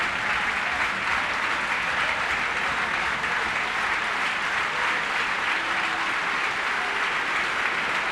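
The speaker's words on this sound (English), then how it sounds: "Big claps for Sean Shields," Sustained applause from a football crowd at a Notts County home match against Belper Town, steady and dense throughout as a substituted player, Sean Shields, leaves the pitch; no voices stand out.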